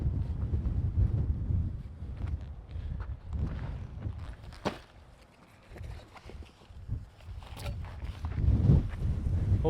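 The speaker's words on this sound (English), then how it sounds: "Wind is so strong." Strong wind on a hilly Texas disc golf course, heavy low rumbling gusts pounding the microphone, easing briefly midway before surging again, with faint movement noises mixed in.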